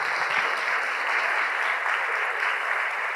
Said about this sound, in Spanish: Dales un aplauso a todos los que llegaron en 2023.